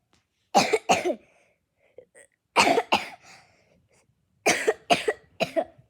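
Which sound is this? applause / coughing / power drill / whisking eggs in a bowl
coughing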